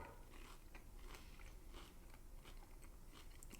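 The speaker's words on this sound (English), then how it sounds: "Has a good crunch to it." A crunchy hash brown gets bitten and chewed close up, soft repeated crackly crunches over a steady quiet background hiss, with no talking.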